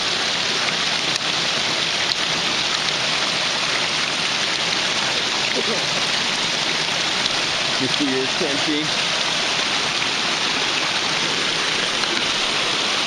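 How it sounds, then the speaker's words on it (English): Mountain snowmelt runoff rushes down a stream beside a backpacking trail, a dense, loud, unbroken roar of flowing water with short bits of talk over it. "there's a lot more water coming down here than last time we were up here"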